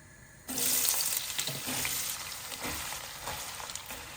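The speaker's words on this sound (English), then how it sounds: "150 ml of oil because it makes it easier to shallow fry" Sliced onions hit about 150 ml of hot oil and shallow-fry with a loud, steady sizzle that starts abruptly and keeps crackling for several seconds, with no voices.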